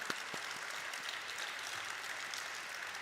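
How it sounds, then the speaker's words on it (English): Even, continuous applause from the audience at an NSE stock listing ceremony, fairly distant and steady, with a few sharper claps near the start. "Let's once again give an applause to Mr. Arvind, everyone."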